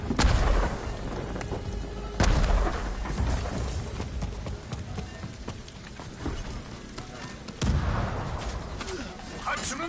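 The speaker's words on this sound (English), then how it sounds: "It's time for the airstrike." Airstrike explosions in the samurai game Ghost of Tsushima Legends, heavy booming blasts landing in several loud bursts over a continuous rumbling roar, with a voice speaking beneath them.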